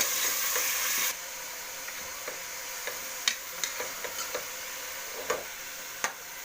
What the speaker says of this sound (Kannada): ಈಗ ಇದಕ್ಕೆ ಕ್ಯಾಬೇಜ್ ಹಾಕ್ಕೊಳ್ಳೋಣ.